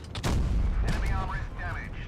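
In World of Tanks Blitz, a tank cannon fires a single heavy boom with a deep rumbling tail, followed by game voice callouts.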